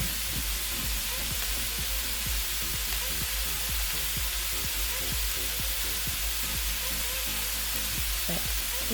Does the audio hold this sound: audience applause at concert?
no